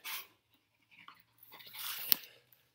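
A dog named Peanut eats chicken, with brief crunchy bites and mouth noises in short bursts close by, separated by quiet gaps, and a sharp click near the end.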